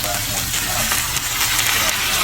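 Steady loud sizzling of beef and broccoli frying with oyster sauce in a small pan, with scraping and clinking as it is stirred.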